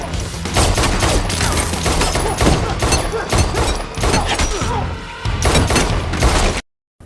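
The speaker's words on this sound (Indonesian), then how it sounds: "John segera mengambil senjatanya dan mulai melakukan baku tembak untuk melindungi putri Koji." Rapid gunfire fills a rooftop shootout in a John Wick film, dense bursts of shots with thuds and crashes, loud and continuous, ending in a sudden cutoff.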